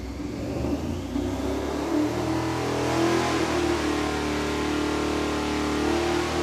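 A high-horsepower engine with a MagnaFlow muffler on the header and Hooker quad mufflers out back revs and holds at a steady drone, rising slightly, with a deep rumbling exhaust tone, fairly loud and continuous.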